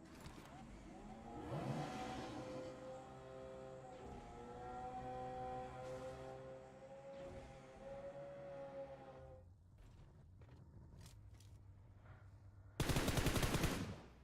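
Gunshots crack during a battle royale video game tournament over a droning vehicle engine, ending in a short, loud burst of fire near the close.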